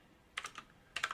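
Quick keystrokes on a computer keyboard while a terminal command is typed, two short clusters of clicky taps close to the microphone in a quiet room.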